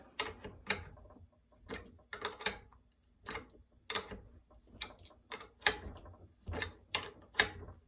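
A crank puller draws the crank arm off a bicycle's bottom bracket spindle during a cup-and-cone to sealed bearing upgrade. It gives close, irregular bursts of ratcheting clicks and creaks with brief pauses between.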